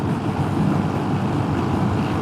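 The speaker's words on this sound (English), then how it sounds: "It's pretty windy up here too" Strong crosswind buffets the microphone while a scooter rides through the Rocky Mountains, a steady low roaring rush that holds loud and unbroken throughout with no talking.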